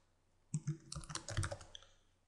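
A short burst of close keyboard clicks as a password is typed into a new account form on a computer, about a second and a half of quick, uneven keystrokes.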